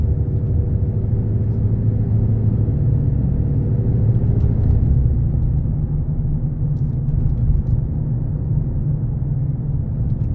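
Steady low engine rumble and road noise from inside a 2022 RAM 2500 Limited pickup truck on a test drive, continuous and even with no clear gear changes.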